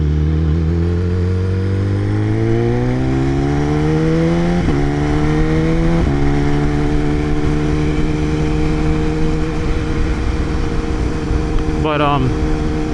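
A motorcycle engine drones steadily at speed, its pitch climbing and dropping with gear changes, wind rushing loudly throughout.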